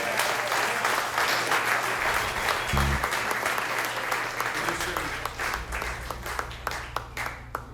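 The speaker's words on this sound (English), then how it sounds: "Give them a huge round of applause, everybody." An audience gives a sustained round of applause for the evening's hosts at a 12-year anniversary performance night, dense clapping filling the room and gradually thinning into scattered individual claps.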